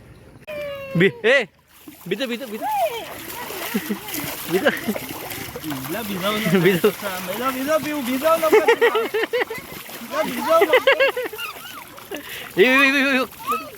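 Water splashes in a resort swimming pool as people swim, heard under continuous excited chatter and shouting from several voices.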